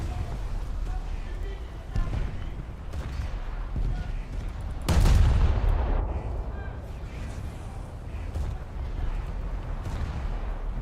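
Ship gun battery firing in War Thunder naval combat, a heavy boom near the five-second mark amid a steady rumbling din of distant gunfire, with a few sharper reports scattered through.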